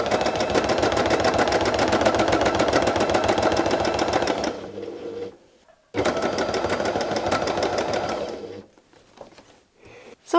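A sewing machine perforates a quilt template with rapid, even needle strokes in two long bursts, each stopping briefly while the template is shifted, with faint quiet handling between them.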